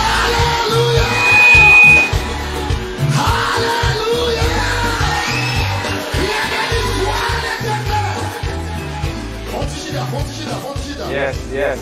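Church congregation shouting Alleluia together in a loud, reverberant crowd roar, sustained yells and whoops over continuous music and voices.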